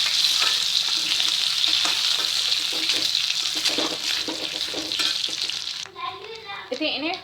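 An egg fries in oil in a pan while chicken biryani is being made, giving a loud, dense, close sizzle with some stirring. The sizzle drops away near the end as clattering and a brief voice take over.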